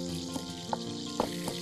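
Sliced onion, with garlic to follow, fries in hot oil in a pan, a soft steady sizzle broken by a few faint clinks or taps, fairly quiet and with no voices.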